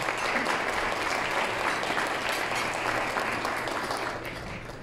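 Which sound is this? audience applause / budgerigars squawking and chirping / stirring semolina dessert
audience applause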